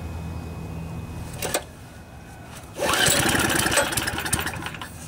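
A Tecumseh H30 3 hp side-shaft small engine, choke on, starting on the first pull: a brief pull rattle, then the engine catches and runs at a loud, steady chugging idle close by.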